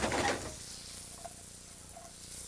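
Fish sautés briefly in a pan, with a hissing sizzle that flares loud at first and then settles into a softer, steady frying hiss.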